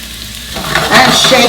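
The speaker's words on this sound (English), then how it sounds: "drop one meatball in and see. Yeah, you can hear it sizzle." Meatballs drop into hot oil in a pan and immediately sizzle, a bright crackling hiss rising loudly over a low background hum.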